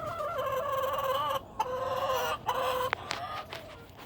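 Chickens cluck softly and continuously in a gentle, murmuring chorus, with a few higher chirps near the end, fairly close and steady.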